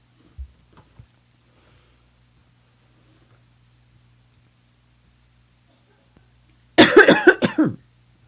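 A single sharp cough in a quiet room, close to the microphone and brief, following a long near-silent stretch with a faint hum and a couple of small taps.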